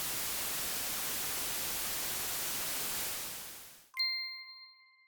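Dolby Atmos center-channel test signal: a steady, loud broadband hiss of noise lasting about four seconds, fading out and then cut off, followed by a brief ringing chime-like tone that decays.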